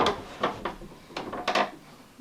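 Wooden dresser drawer being opened and emptied, a handful of short scraping and knocking thumps in an uneven rhythm, close and fairly loud, with no one talking.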